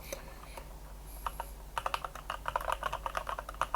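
Typing on an AJAZZ AK680 mechanical gaming keyboard produces rapid, close clicky keystrokes in quick bursts, growing denser over a low background hum.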